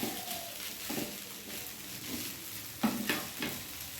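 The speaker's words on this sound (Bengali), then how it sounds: "এবার আর একটু মিশিয়ে নেব।" Flattened rice pulao being stirred in a pan with sugar and salt mixed in, giving soft scraping strokes at a steady, moderate pace over a faint continuous sizzle, with a few sharper utensil scrapes near the end.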